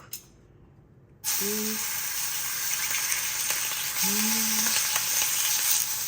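Thin slices of beef tongue hit a lightly oiled pan after a short quiet moment, then sizzle loudly and steadily up close, with a faint tonal whine twice above the hiss.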